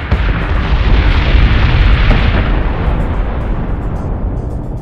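Ship weapons and explosions in the Battlestar Galactica Deadlock space combat game roll together in a loud, continuous barrage of heavy booms and rumbling blasts, with no speech heard.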